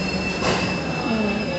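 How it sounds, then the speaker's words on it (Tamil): Fully air-conditioned passenger train with a diesel engine at Sengottai railway station, on a Kochuveli to Tambaram run: loud, continuous wheel squeal and rumble from rail cars rolling close by, with no talking. "இந்த ட்ரெயின் முழுக்க AC train, fully AC coaches தான் இருக்குது இதில்."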